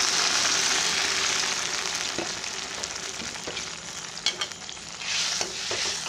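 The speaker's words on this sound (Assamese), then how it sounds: "ভাজি লোৱাৰ পাছত এয়া মই অকণমান কম পৰিমাণে পানী দিছোঁ।" Water poured into a pan of frying potatoes sets off a loud, hissing sizzle right away. It eases slowly over several seconds, with faint stirring clicks beneath it.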